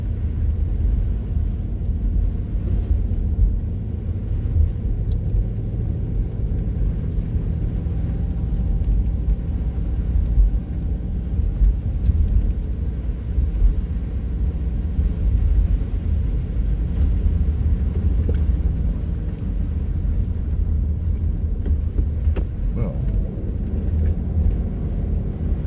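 Steady car interior rumble while driving along roads through the Akwesasne Mohawk reservation, a continuous low engine and road drone with no talking.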